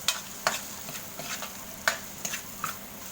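A spoon stirs sautéed mung beans with smoked fish in a pan, scraping and clinking in irregular strokes over a soft, continuous sizzle.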